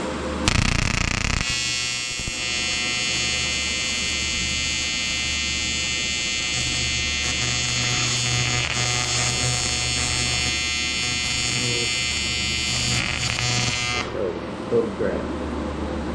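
A Primeweld 225x TIG welder runs in one continuous steady arc lasting about twelve seconds, a loud close buzzing hum that starts abruptly and cuts off sharply, with a few brief clicks before and after.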